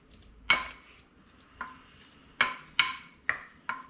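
Utensils clink and knock against a bowl in six sharp, separated strikes while sauce ingredients are mixed for a rockfish dish. The strikes are close, bright and irregularly spaced, with quiet between them and no talking.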